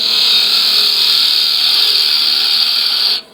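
A spindle gouge cuts into spinning wood on a lathe while turning a pepper mill, giving a loud, steady, hissing scrape that holds even for about three seconds before stopping abruptly.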